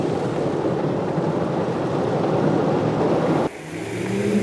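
A car drives through the falling water of Car Wash Falls in Arkansas, giving a loud, steady rushing roar that cuts off abruptly near the end and gives way to quieter engine hum.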